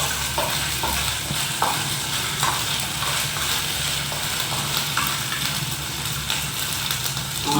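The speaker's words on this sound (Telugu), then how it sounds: "ఆయిల్లో అల్లం వెల్లుల్లి పేస్ట్ వేసుకున్న తర్వాత ఆల్మోస్ట్ మాడిపోయే టైంలో ఆనియన్స్ వేసాము" Onions frying in hot oil with ginger garlic paste for a chicken curry, stirred in the pan: a steady close sizzle runs throughout, with soft scraping stir strokes recurring every second or so.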